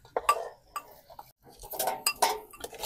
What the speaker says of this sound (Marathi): आता ह्यामध्ये आपण मटण टाकायला चाललोय बघा